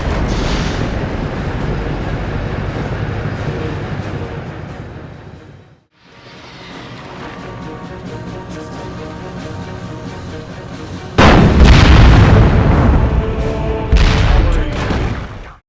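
Baneblade super-heavy tank cannon fire in the Dawn of War II: Retribution game, a dense battlefield din of booming blasts and rumbling explosions, a brief lull near the middle, then a louder burst of heavy impacts near the end.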